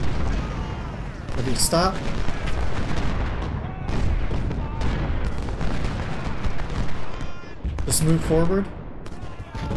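Artillery and massed gunfire in the Ultimate General Civil War video game, rolling cannon booms and crackling volleys throughout, with someone talking over the battle.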